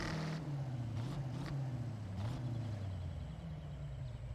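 A car engine in Forza Horizon 6 hums and revs at a low, steady pitch, rising and dipping slightly, heard fairly quietly and alone with no talking.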